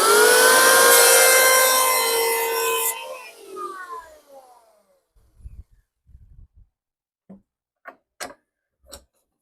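Dongcheng electric planer running on wood: a loud, high motor whine that winds down and fades over several seconds, followed by silence and a few scattered light knocks and taps.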